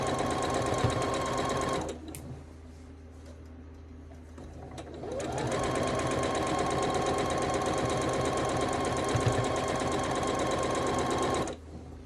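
Sewing machine stitching through a quilt during finishing, running in a fast steady mechanical rhythm close up, pausing briefly for a couple of seconds before resuming at full speed and stopping near the end.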